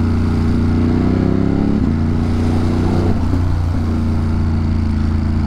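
A motorcycle cruises along a road on a touring trip, its engine a loud, steady drone close by with shifting pitch as it changes gears, and no voices.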